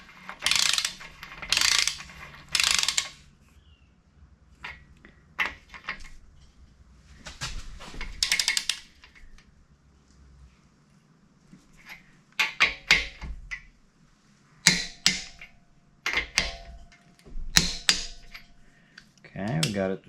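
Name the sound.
wrench ratcheting while tightening to torque spec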